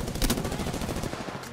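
Rapid automatic gunfire rattles through a firefight in the video game Apex Legends, a dense, loud burst that runs steadily with no talk over it.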